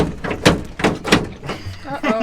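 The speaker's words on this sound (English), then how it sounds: "so I close this door" Shower door inside a converted step van (bread truck) swung shut with a dull thunk, followed by a few lighter knocks and rattles of the door settling, close by in a small enclosed space.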